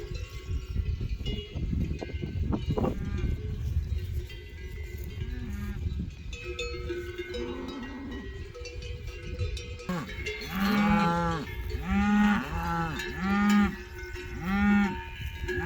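Cattle on a Spanish livestock farm low repeatedly in long, loud moos near at hand, several calls in a row over a constant jangle of cowbells, with no talking.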